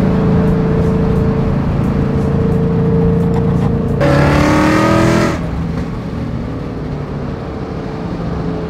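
A boosted Ford Mustang with a first-generation Coyote V8 and stock internals rumbles steadily, then surges into a loud rising rev for about a second before settling back to a lower drone.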